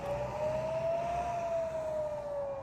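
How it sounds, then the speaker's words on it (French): Rocket alert air raid siren sounding in Ashkelon, Israel, a steady wailing tone that rises slightly and falls, heard at moderate distance over continuous background noise, with no talking. "sirènes d'alerte aux roquettes qui ont également retenti à Jérusalem et Tel Aviv ce matin"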